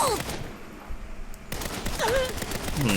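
Gunfire from the 2022 Saints Row video game, a burst of shots followed by further rapid shots with game sound effects, while someone talks excitedly over the action.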